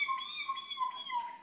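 A Hawaiian mynah bird imitates a cat's meow on a television talk show, a clear, tonal, drawn-out meowing cry lasting over a second, fairly close and alone without talk.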